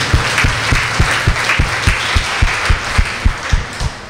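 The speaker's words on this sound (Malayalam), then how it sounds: "നമുക്കൊന്ന് കൈയടിച്ച് ഒന്ന് നന്ദി പറയാം എല്ലാവരും കൂടെ തന്നെ" An audience at a Christian retreat breaks into steady, rhythmic group applause, loud and close, with claps falling in an even beat for several seconds.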